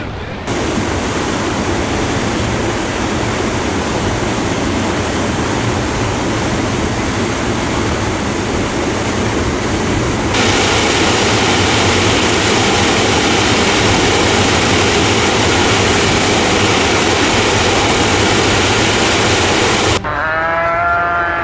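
Raging floodwater in the Dharali village disaster in India, a loud dense continuous roar that surges stronger partway through and cuts off abruptly near the end, with lowing cattle mixed in.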